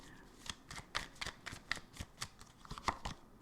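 Tarot cards being shuffled by hand, a steady run of quick riffling flicks and soft snaps at close range, fairly quiet and with no talk.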